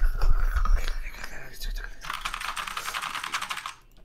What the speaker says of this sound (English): With your clacky ass keyboard.